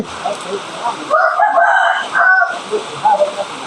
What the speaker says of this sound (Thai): ไปไปพาไปดูไก่ชนหน่อยดิ